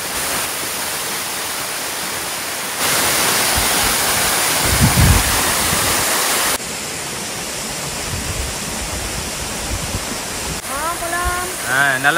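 Steady roaring rush of a waterfall in Kerala, loud and broadband, surging louder midway then settling, with a brief whistling tone near the end and no clear talk.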